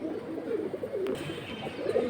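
Pigeons kept at home coo softly in low murmuring phrases, faint and continuous across the short stretch with no voices.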